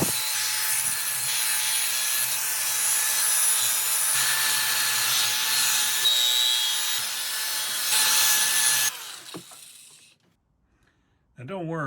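An aluminum bat with chipped paint is sanded down in long back-and-forth strokes, a loud, close, continuous abrasive rasp that stops near the end before a brief different tone.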